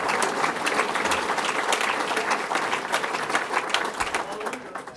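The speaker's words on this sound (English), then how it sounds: "let's give them a round of applause for innovation in fishing." A crowd applauding at a state fishing event, a solid wash of clapping continuous and loud throughout, with faint crowd murmur beneath.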